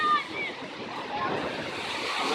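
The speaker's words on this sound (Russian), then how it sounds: "Штормит." Stormy sea waves roll onto the beach at Yevpatoria on a windy July day, a continuous roar of surf with wind rumbling against the microphone throughout.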